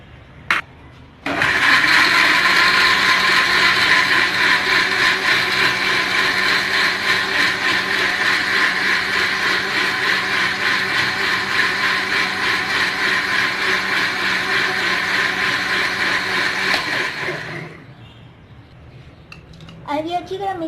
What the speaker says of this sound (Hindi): अब फिर हम इसे अच्छी तरह ब्लेंड करेंगे।